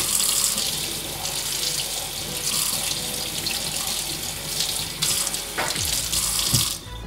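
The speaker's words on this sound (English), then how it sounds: "you see how the water just comes off really easily" Water from a tap runs steadily and fairly loudly over an Allbirds Wool Dasher Mizzle shoe, a continuous splashing hiss with a few brief knocks near the end.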